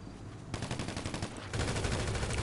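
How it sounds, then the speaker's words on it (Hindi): Automatic gunfire from the Grand Theft Auto V video game rattles in rapid, even bursts, loud and sustained, stopping briefly before a heavier volley resumes. "फायर मार गोली मार गोली मार इनको।"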